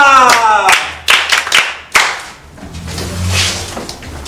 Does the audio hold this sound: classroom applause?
yes